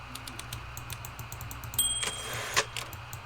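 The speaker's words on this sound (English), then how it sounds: "Typewriter. Try writing with it." Typewriter keys clatter in the video game Before Your Eyes, a series of light, quick clicks over a low steady hum, ending in a brighter mechanical strike and ring.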